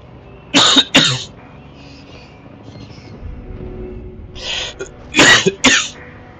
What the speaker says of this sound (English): I do not know why I'm coughing this way.